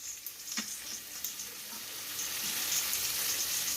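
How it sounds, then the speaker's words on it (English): Bacon fries in a pan with a soft, steady sizzle and crackle, a few louder pops and scrapes near the start, the frying swelling slightly toward the end with no talking. "now I'm ready to turn my bacon"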